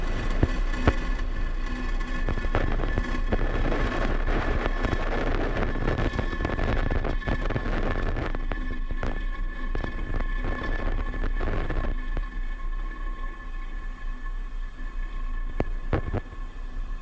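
A SpaceX Falcon 9 rocket roars as its engines push it upward after liftoff, a continuous broadband rumble with some wind-like buffeting that stays loud and steady, then eases slightly toward the end.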